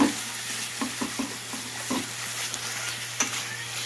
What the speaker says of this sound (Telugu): ఇప్పుడు కొద్దిగా తిప్పుకుంటా ఉన్నా